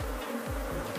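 Honeybees from a swarm buzz close by during a hive inspection, a continuous, even hum with a few low handling thumps beneath it and no talk.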